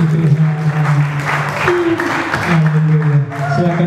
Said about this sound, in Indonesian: Tepuk tangan dong yang ada di sini.